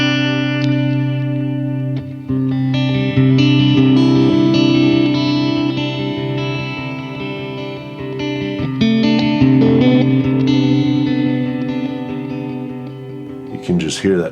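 An electric guitar played through a Fender Tone Master Pro with effects rings out in loud, sustained distorted chords with reverb and echo, picking getting heavier toward a final flurry.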